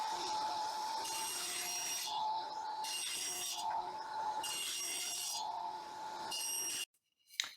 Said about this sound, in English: I'm going to head over to the table saw and get those ripped down